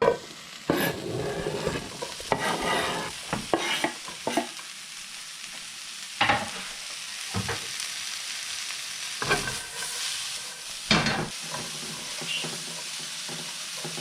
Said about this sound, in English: So I'm just going to let these kind of brown up here a little bit until they start to get a little bit more translucent.